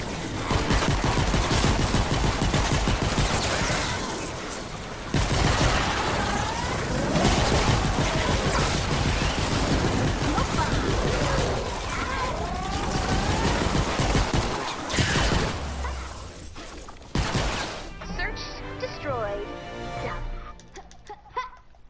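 Pistols firing continuously in a mobile hero game, rapid dense shots with impacts in long sustained bursts and short pauses, ending in scattered effects and chiming sounds.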